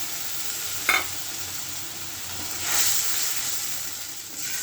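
Ground spice paste of turmeric, chilli, ginger, garlic and onion frying in plenty of oil, with a steady close sizzle, a sharp utensil tap near the start and a swell of hiss when stirred.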